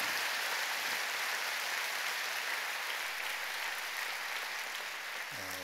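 A church congregation applauds its young people in a large hall, a dense, sustained wash of clapping that holds steady from start to finish.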